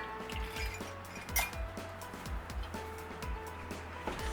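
Cornbread batter of baking powder, soda, salt, melted butter and milk being stirred in a bowl for blueberry cornbread, a steady rhythmic run of utensil scrapes and clinks against the bowl, close and quiet.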